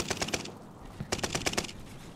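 Gunfire in a multiplayer shooter video game: two quick bursts of rapid automatic shots, each a tight string of sharp cracks separated by a brief pause, moderately distant and fairly quiet.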